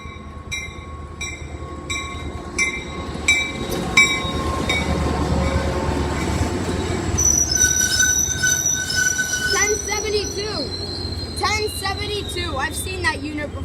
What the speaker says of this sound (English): Nice train we got ourselves today.